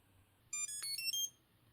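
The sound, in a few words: Reyke wallet tracker card beeping on power-up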